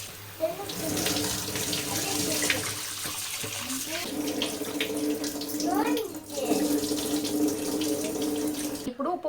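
Fish pieces being rinsed with turmeric in water from a running tap, with steady splashing and sloshing as the pieces are handled and a brief pause near the end.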